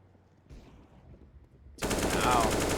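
FAMAS rifle fire in a Counter-Strike match: quiet, muffled game sounds, then a sudden loud rapid burst of automatic shots that continues to the end.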